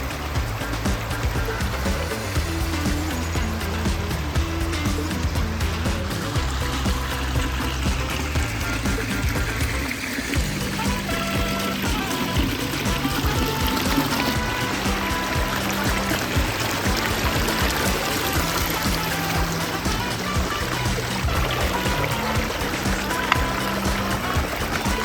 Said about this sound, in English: beautiful fountainscape